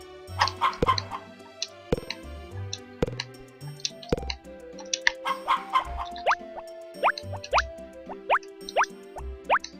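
Chickens clucking in the Harvest Moon: Back to Nature farming game, a series of short, sharp bird calls and plopping blips repeating over a light game soundtrack.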